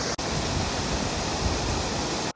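A small waterfall in Parque da Cerveja, Campos do Jordão, fills the scene with a steady, dense rushing roar that cuts off abruptly at the end; no voices.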